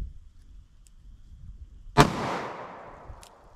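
A single sharp shot from a 3-inch Taurus .38 Special revolver firing Speer Gold Dot ammunition, a loud close crack followed by a brief decaying echo, with quiet before it.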